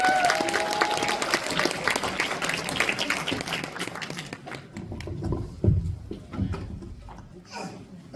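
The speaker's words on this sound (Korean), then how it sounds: "큰 박수 부탁드립니다." Loud applause from the audience at a university rehabilitation and independence department academic festival, dense clapping that swells for several seconds then thins out and fades, with a voice or two briefly heard as it dies down.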